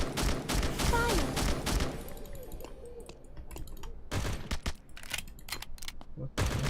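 Rapid video game gunfire from a weapon in Murder Saga, with dense bursts of sharp shots crackling in quick succession. It is loud and close, then thins to scattered clicking reports.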